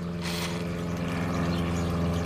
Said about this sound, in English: there's a plane going overhead now